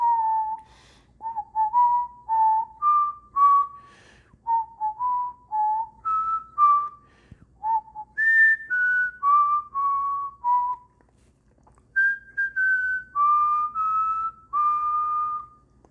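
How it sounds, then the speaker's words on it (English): A person whistles the Happy Birthday melody solo, each clear note sitting alone and close, phrases separated by short breaths, with no talking. "I'm gonna hum Happy Birthday, or whistle Happy Birthday"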